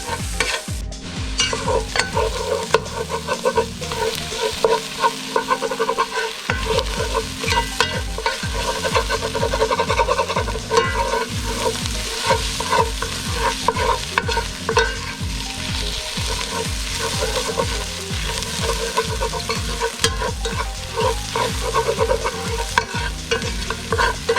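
Onions and spices frying in a pan for French onion soup, a dense continuous sizzle with constant stirring and scraping, loud and close, running steadily for the whole stretch without talk.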